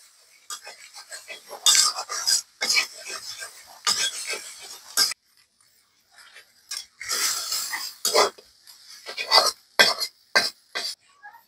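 A spatula stirs fried jute leaves seasoned with dried chilli powder in a pan, giving repeated close scraping and rustling strokes in uneven bursts with short pauses between them.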